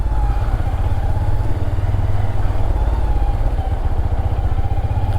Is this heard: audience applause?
no